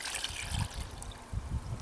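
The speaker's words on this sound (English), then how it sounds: "to top this up, we'll add this pond water" Pond water containing azolla pours into a container, a steady close trickling and splashing of liquid running through the whole short stretch with no talking.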